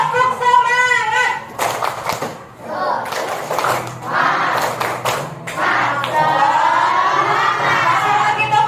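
A classroom of children chanting a rhythmic tepuk semangat clap routine during an ice-breaking activity, hand claps in patterned bursts mixed with young voices, loud and close throughout.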